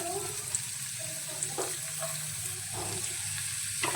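Finely chopped garlic and ginger frying in hot oil over toasted cumin seeds for a bathua sabzi, giving a steady close sizzle broken by a few soft stirring knocks.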